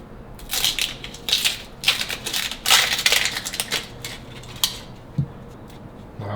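A papery onion skin is peeled off by hand, giving close, crisp crackling and tearing rustles in bursts, then a few softer crinkles as the peeling slows.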